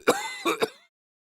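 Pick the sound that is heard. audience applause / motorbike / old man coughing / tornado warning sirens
old man coughing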